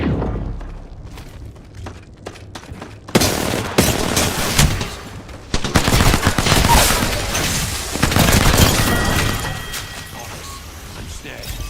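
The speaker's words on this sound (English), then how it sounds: "Firing the smart bullet." Smart bullet gunfire in the Apex Legends video game rings out in loud, repeated bursts of shots and impacts, with voices talking over the firing.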